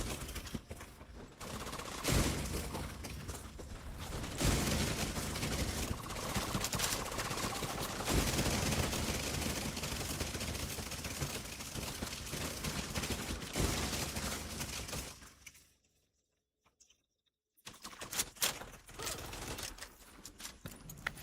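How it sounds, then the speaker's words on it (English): Sustained bursts of rapid video-game gunfire from Tom Clancy's The Division 2 rattle on and on, dense and loud, with a brief drop to silence before the shooting resumes. "Is that gunfire?"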